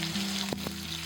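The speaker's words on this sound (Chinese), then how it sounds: "接着我们就放入排骨，保持中小火煎。" Pork ribs fry in a large preheated clay pot with a little oil over medium-low heat, giving a steady close sizzle with two brief sharp clicks from stirring midway.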